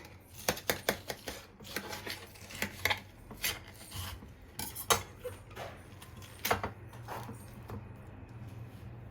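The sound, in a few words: knife cutting watermelon for mojito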